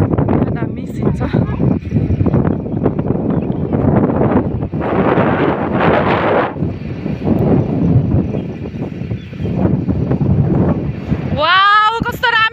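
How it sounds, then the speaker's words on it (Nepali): A steady forest breeze buffets the microphone in a continuous low roar, with a short burst of birdsong-like chirps near the end; no speech is heard. "वाउ कस्तो राम्रो हावा आएको।"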